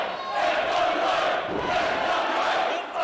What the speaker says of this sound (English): And you can hear the crowd going nuts for this FWA action.